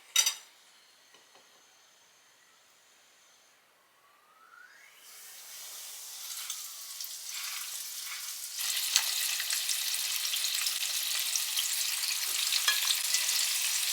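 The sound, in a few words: frying chicken in a pan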